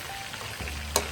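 Morning glory with pork, fermented soybeans and garlic sizzles and simmers in a hot pan, a soft steady frying hiss with a couple of brief louder crackles near the end.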